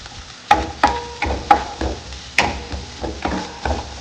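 Chapati noodles stirred in ghee in a hot pan over a high flame: a series of close, irregular scrapes and knocks from a spatula against the pan, with a faint sizzle beneath.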